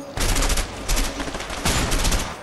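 Bursts of rapid gunfire from a rifle in the co-op video game A Way Out, three loud, close volleys separated by short pauses, with no talking over them.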